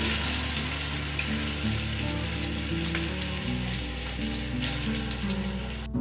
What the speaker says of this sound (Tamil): ஃப்ரை ஆனதுக்கப்புறம் கருவேப்பிலை அதுக்கப்புறம் இஞ்சி பூண்டு பேஸ்ட் நம்ம ஆட் பண்ணிக்கலாம்